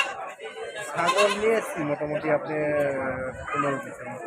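Goats bleat at an early-morning goat market in Ahmedpur, Natore, with a few wavering calls mixed into close, steady conversation between men.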